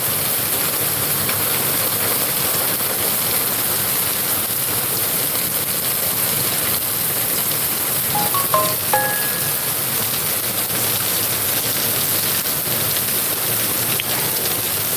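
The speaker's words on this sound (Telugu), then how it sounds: "ఒక్కసారిగా కుండపోతు వర్షం అయితే బద్దె అయితే పడుతుంది" Heavy torrential rain pours down steadily as a dense, loud, unbroken hiss that fills the whole stretch, with a few faint tonal chirps briefly rising above it near the middle.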